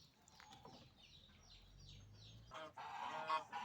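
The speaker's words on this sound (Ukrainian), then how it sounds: "Ось кури мене вже зустрічають" Several hens cluck and chirp close by, their calls overlapping, with a louder burst of clucking near the end.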